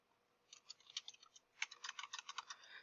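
Quiet keystrokes on a computer keyboard: a brief patter, then a faster run of crisp clicks, close and alone.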